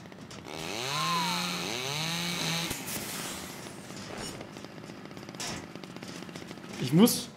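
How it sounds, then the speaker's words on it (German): A chainsaw in the video game The Culling revs in rising and falling whines, repeated several times, followed by clattering combat noises and a sharp burst near the end. "Ich habe halt leider alleine gegen die Kettensäge so gar keine Chance."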